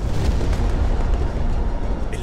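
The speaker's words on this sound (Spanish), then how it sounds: "un carro de municiones austriaco es alcanzado y revienta en una tremenda explosión" An Austrian ammunition cart blows up in a tremendous explosion during the Battle of Marengo, heard as a loud, continuous, heavy rumbling boom that fills the whole stretch.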